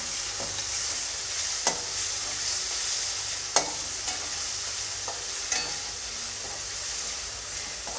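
A tempering with garam masala sizzles in a pan, a steady close hiss marked by a few sharp clinks of a spoon against the metal, with no one speaking.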